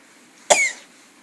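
A single short cough from a child, sharp and close, with quiet around it.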